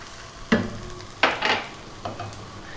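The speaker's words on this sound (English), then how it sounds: "we're going to add our garlic, about a tablespoon of garlic" A tablespoon of garlic hits hot oil in a pan for fresh tomato chili tagliatelle with anchovy, making three sharp bursts of sizzling and stirring that each fade quickly over a steady low frying hiss, close and without talk.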